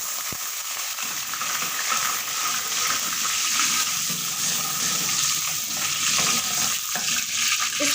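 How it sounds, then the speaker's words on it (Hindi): Cumin and chopped garlic frying in hot oil, a loud, steady, dense sizzle that swells after a brief start and holds near and unbroken throughout, no talk. "ऑयल हमारा गर्म हो चुका है। ज़ीरा डालेंगे थोड़ा सा, इसको 2 सेकंड फ्राई करेंगे।"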